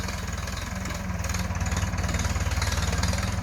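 A powerful Ford tractor pushes wood while clearing a field, its engine a steady, loud, close chugging rumble with an even pulsing beat throughout and no talk.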